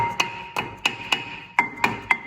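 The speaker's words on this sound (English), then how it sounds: "we're gonna use just a rubber hammer to tap it down" A rubber hammer taps a rusted brake disc on a Mazda CX-5 to loosen it, seven sharp ringing metallic knocks at uneven intervals, close and fairly loud over a steady background hum.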